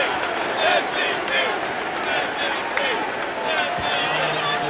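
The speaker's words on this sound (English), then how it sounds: "Crowd's going MVP 1 more time." Arena crowd at a 2001 NBA East semifinal playoff game between the Toronto Raptors and Philadelphia 76ers, a steady loud roar of thousands of fans with rhythmic chanting pulses running through the whole stretch.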